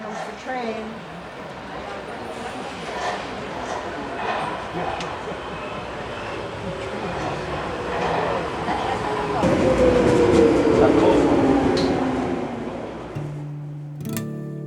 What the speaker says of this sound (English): Comes the train.